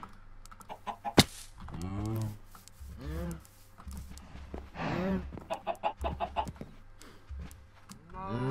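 Minecraft chickens clucking in the game, several short warbling clucks in bursts spread across the moment, fairly close, with a sharp click near the start.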